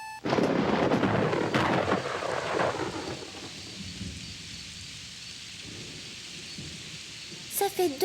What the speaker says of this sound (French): Ça fait 2 semaines qu'il n'arrête pas de pleuvoir